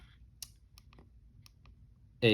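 A Garmin Messenger's OK button is pressed in a few small, sharp clicks spread irregularly over a couple of seconds, close and faint over quiet room hiss, ending in a loud burst.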